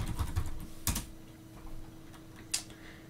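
A password typed on a computer keyboard: a few soft, close keystrokes tapped at an uneven pace in a quiet room.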